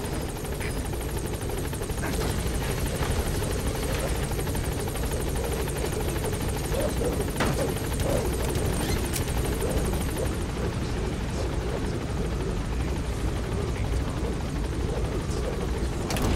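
Helicopter climbing in the Metal Gear Solid V video game, with a constant loud rotor thrum and engine buzz and a few faint clicks.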